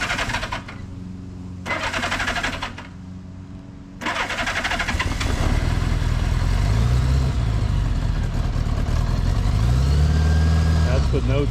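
A restored 1975 Honda Goldwing motorcycle in neutral cranks with no choke, catches, and settles into a steady, loud engine run close by; the start is not stone cold.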